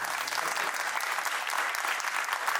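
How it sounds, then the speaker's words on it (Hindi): Students and guests at a school graduation ceremony give steady, even applause for the head teacher, a continuous wash of many hands clapping throughout. "आप सभी लोग एक बार जोरदार तालियां बड़ी मैम के लिए बजाएंगे।"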